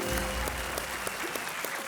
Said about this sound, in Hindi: जवाब आने से पहले ही जनता ने ताली बजाना शुरू कर दिया।